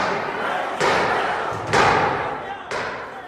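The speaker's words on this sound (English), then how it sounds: "the sound of pounding on the door like a battering ram" Heavy pounding on a door like a battering ram during a riot, three loud thuds spaced about a second apart, each ringing out before the next blow.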